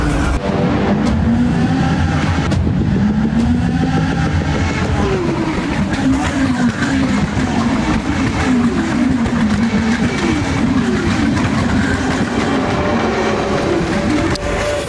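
Rallycross race cars racing, loud, continuous engine roar with rising and falling revs as several cars accelerate and shift, filling the whole span without a break.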